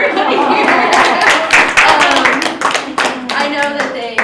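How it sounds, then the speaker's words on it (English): A room of people gives a round of applause for professors at the end of a talk, dense close hand-clapping that rises, peaks and tapers over a few seconds. "I'd like to give a round of applause to my professors and everybody here"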